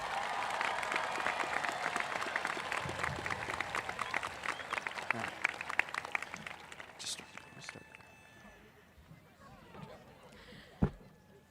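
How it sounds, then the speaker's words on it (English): A crowd at a 2025 high school graduation ceremony gives a dense round of applause that fades out over several seconds. Scattered sounds and a few sharp knocks follow as it dies away. "Can we get another round of applause for all our graduates and speakers,"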